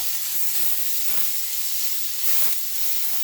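A roast beef, just flipped, sizzles in a hot pan. A steady, bright hiss runs throughout and swells briefly twice. No one speaks.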